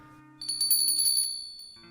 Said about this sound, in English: as the customer warning bell rings as Ada walks in